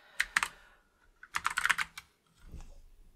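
Quick bursts of typing on a computer keyboard, a few close clicks, a short pause, then a denser flurry of keystrokes and a couple of final taps.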